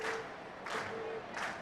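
Distant crowd applause and cheering at a concert in the video game Trails of Cold Steel, a steady soft wash of clapping with a few louder swells, faint and without talk.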